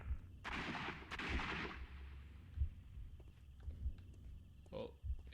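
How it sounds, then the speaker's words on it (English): A single gunshot in Sherlock Holmes: Crimes and Punishments cracks with a heavy low thump, followed by quieter dull impacts and a faint rumble. "A missed shot."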